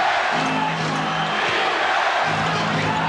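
A packed basketball arena crowd roars continuously during the 1991 NBA Finals Game 5 between the Chicago Bulls and Los Angeles Lakers, a dense, loud wash of cheering with rising chant-like swells and no clear pause.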